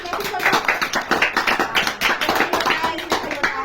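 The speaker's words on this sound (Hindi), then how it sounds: "चलो ठीक है, ताली बजाओ इसके लिए।" Children clap their hands together in a classroom, a burst of fairly close, irregular claps lasting a few seconds, with some voices mixed in.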